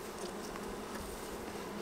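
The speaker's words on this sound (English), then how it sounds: "these bees right here can kind of go about their business." Honey bees buzz steadily around a long hive during an inspection, a dense, continuous hum filling the air with no speech over it.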